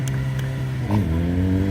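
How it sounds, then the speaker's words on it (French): A car engine idles loudly at a public event, then gets a single sharp throttle blip that rises and settles back to a steady rumble, with no voices. "à chaque fois que Seb donnera un coup de gaz, je vais entendre tout le monde hurler."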